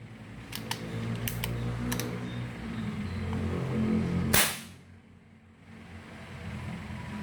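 An MMB Concord gun with a faulty, leaking transfer port gives a few small clicks and taps, then one loud, sharp backfiring pop that is followed by quieter low rumbling.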